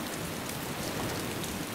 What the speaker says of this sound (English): Sorry about the rain, didn't realise it was going to be that heavy.